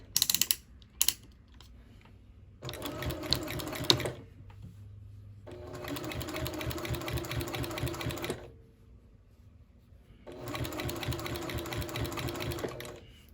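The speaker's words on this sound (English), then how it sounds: "we're just gonna start sewing that at a 1/4 inch seam allowance" Sewing machine sewing binding onto a mug rug at a quarter-inch seam, three loud close runs of rapid rhythmic stitching separated by near-silent pauses, with a few clicks at the start.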